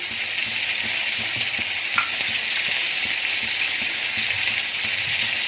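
Mustard seeds sizzle in hot oil with a loud, steady crackling hiss that stays even throughout, a faint tick or pop now and then.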